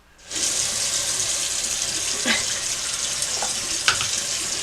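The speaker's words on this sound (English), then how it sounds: "I'm going to get the hot water running here." Hot water from a tap starts suddenly and runs in a steady broad hiss, fairly close and continuous, with a few small clinks and splashes breaking through.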